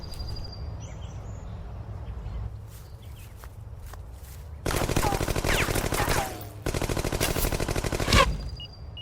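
Gunfire in a sci-fi techno-thriller woodland firefight: two long, dense bursts of rapid automatic shots, loud and close, separated by a short pause, with quieter rustling and footsteps before them.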